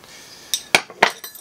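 Metal clamps from a hardware store clink and clatter as they are handled, giving a few sharp, close knocks and rattles over about a second and a half.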